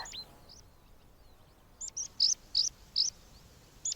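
Meadow pipits give thin, high alarm calls over a cuckoo nearby, scattered faint notes at first, then a run of louder, evenly spaced sharp chirps close by in the open Burren landscape.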